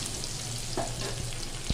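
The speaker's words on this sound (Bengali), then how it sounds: "মাছগুলো আমি আগে ভেজে নিচ্ছি।" Fish frying in oil in a home kitchen pan: a steady, close sizzle and crackle throughout, with a few light stirring knocks and a sharp low thump near the end, and no talk.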